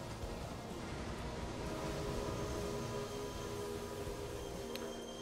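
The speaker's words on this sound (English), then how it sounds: "I hear the milk train." Milk train rolling past in the Railway Empire game, a steady broad rumbling clatter of wheels and cars, fairly constant in level, with a faint higher tone near the end.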